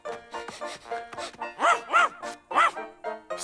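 Cartoon dog Rantanplan barks repeatedly in quick, uneven bursts, with a few longer yelping barks in the middle, loud and close.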